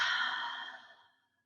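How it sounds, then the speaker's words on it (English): One slow breath out, a soft close airy exhale that trails off over about a second, heard alone. "Breathe out."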